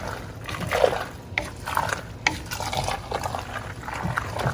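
Pasta stirred in a pot of salted water with a drizzle of vegetable oil, soft sloshing and liquid swirls with a few brief clinks, close by.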